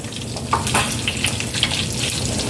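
Cooking oil sizzles and spatters steadily in a pan, a dense hiss with scattered pops, fairly close and moderately loud, with no voices.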